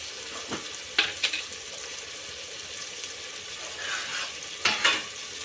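Ginger paste stirred into a sizzling pan of food, a hissing fry with a few brisk scraping strokes of a spoon in short bursts, close and fairly quiet.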